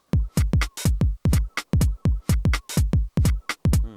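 A punchy electronic drum pattern from a Korg Electribe ESX-1 repeats in a tight, even one-bar loop, loud and close, with booming kicks and sharp hits and no voices.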